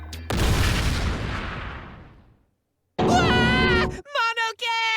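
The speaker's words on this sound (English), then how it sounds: "Monosuke's the one that's gonna get blown up." An explosion in the video game Danganronpa V3 hits with a loud, sudden boom that rolls away over about two seconds, followed after a short silence by character voices.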